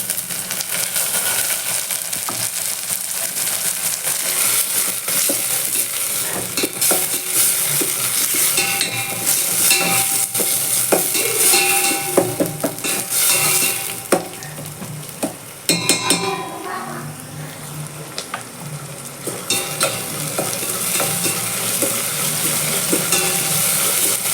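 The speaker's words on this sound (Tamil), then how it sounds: "வெங்காயம் நல்லா வதங்கிடுச்சு" Chopped onion and tomato sauté in a pan for an okra tamarind curry, giving a dense, continuous sizzle under repeated scraping strokes of a spoon and light clinks, loud and close.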